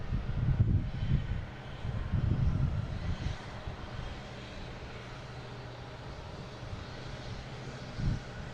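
A Boeing 747 taxiing at Boston Logan gives a low, chugging engine rumble, louder in the first few seconds with a couple of heavier surges, then settling into a steady distant roar with one brief swell near the end.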